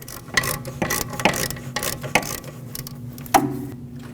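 A ratchet unthreads a brake caliper bolt on a Lexus IS250 during rear wheel hub bearing work, giving a few sharp clicking bursts over a steady mechanical background hum, close and moderately loud.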